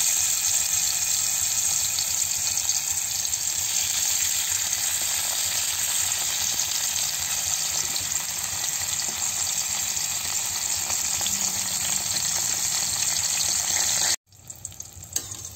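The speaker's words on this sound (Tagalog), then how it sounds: "Ang una natin gagawin ay magpiprito tayo ng tokwa" Tofu frying in a pan, a steady dense sizzle with spatter that holds close and loud, then cuts off abruptly near the end before a few faint clicks.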